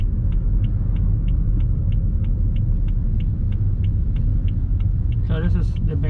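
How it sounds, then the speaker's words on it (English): A vehicle on a road near Coghlan Dam, Pouderoyen, West Bank Demerara, Guyana, gives a loud, continuous low engine rumble with faint regular ticking over it, and a brief voice-like sound near the end. "where this vehicle is coming out here."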